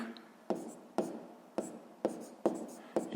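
Pen or chalk writing out a maths fraction in a sixth-grade lesson, with six sharp, evenly spaced taps and short scratching strokes roughly every half second, close and clear with no talk.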